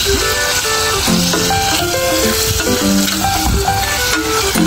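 Chicken hearts and livers sizzle and fry in a pan outdoors in a backyard, a steady loud crackle with occasional clinks and scrapes of stirring.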